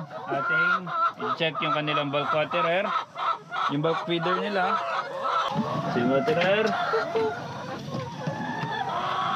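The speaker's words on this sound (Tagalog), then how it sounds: "Nakakatuwa pakinggan yung tunog ng layers pero nakakasura din kasi ang ingay." Free-range layer hens clucking and squawking on a farm, a busy, loud chorus of overlapping bird calls with someone talking over them.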